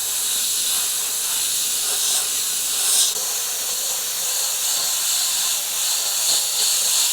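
An airbrush spraying black paint along the edge of a template produces a continuous bright hiss that holds steady, with a brief louder burst partway through and no talking.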